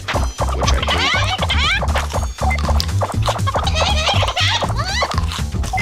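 Cartoon chickens from the video game Chicken Invaders 3 Christmas Edition cluck and squawk in dense, continuous bursts, layered with game effects and a steady musical backing throughout.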